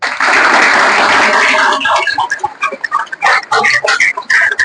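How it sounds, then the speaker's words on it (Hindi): A crowd claps loudly at first, then the applause thins into scattered claps mixed with whoops and cheers. "कुणाल भाई के लिए ताली बजाओ भाई"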